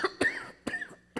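Three short, close coughs in quick succession, each a sharp burst with a brief gap between, fairly quiet overall.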